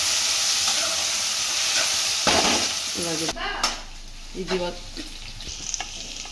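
Onion chutney ingredients fry with tamarind in a pan, giving a loud, steady sizzle at first, then a few scraping stirs over a quieter hiss.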